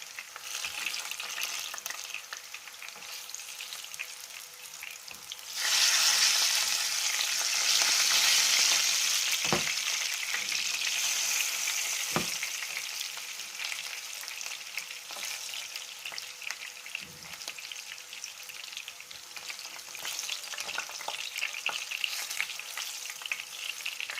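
Peppers frying in oil in a pan, a continuous loud hiss that swells when food goes in and then settles into a steady crackle, with a few sharp clinks.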